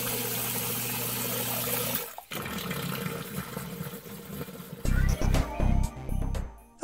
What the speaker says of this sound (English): the pump snapped on and then snapped off at the right level.